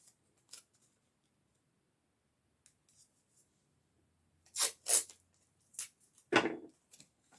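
Makeup tape is torn and cut for placing at the sides of the eyes, producing a few sharp, close snips and rips scattered over a quiet background, clustered toward the end.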